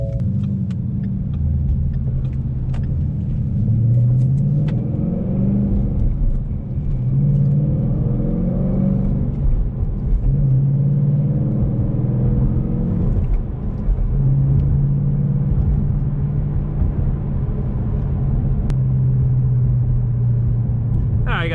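A Ford Mustang GT with the 5.0 Coyote V8 drives along a road, its engine rumbling steadily with several rises and falls in revs, heard close from inside the car.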